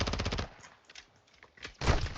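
Rapid automatic gunfire in DMZ Warzone 2.0, a fast burst of close, loud shots that stops, leaving quieter scattered combat noise before another loud burst at the end.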